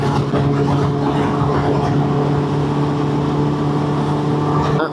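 Engine of a 2001 Suzuki Bandit 600 Mark II S motorcycle running steadily, loud and close, with a constant droning hum and no talking over it.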